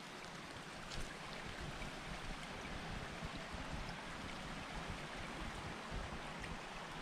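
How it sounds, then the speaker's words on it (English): A small creek flows across from a campsite in Canada in autumn, giving a steady broadband rush and gurgle of water, continuous and even, with no voices. "Got ourselves a nice little creek just across from the campsite. Flows down to the river."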